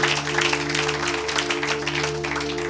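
A church congregation claps at a Sunday service, with dense, steady applause over a sustained organ or keyboard drone. No one speaks over it.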